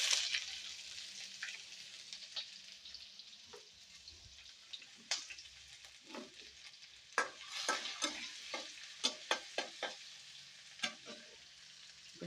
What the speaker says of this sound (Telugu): కట్ చేసిన ఉల్లిపాయ ముక్కలు వేసుకుందాం.